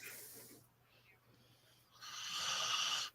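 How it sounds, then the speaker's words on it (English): A man breathes heavily through the nose and mouth with a rough, snore-like rasp, the hissing breath swelling louder near the end over a faint steady hum. "You hear him snoring."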